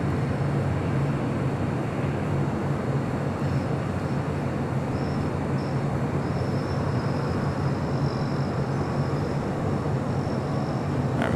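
Heavy jet departing runway 25 right at LAX on the south side, a steady broadband engine roar that holds loud and continuous throughout with no talk.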